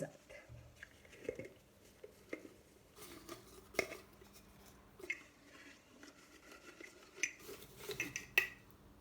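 Tarot cards being shuffled and mixed by hand, giving soft irregular rustles and light taps, close and quiet, with faint talking now and then.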